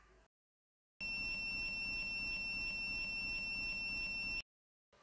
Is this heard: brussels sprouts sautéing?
no